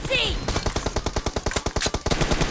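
Rapid automatic gunfire in a team deathmatch video game, a fast steady string of loud close shots after a brief opening sound, with voices faintly under it.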